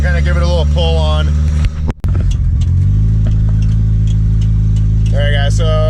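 A turbocharged car engine drones loud and close inside the cabin, with a steady heavy hum and a short break partway through, while someone talks over it at the start and end.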